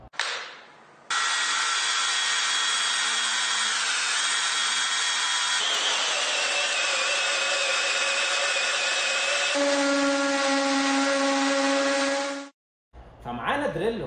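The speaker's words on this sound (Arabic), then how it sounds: "فمعانا دريل قوي وخفيف الوزن" An 18-volt cordless hammer drill (HP488D002) whirs continuously for about eleven seconds, its motor pitch shifting a few times as it runs, then cuts out abruptly.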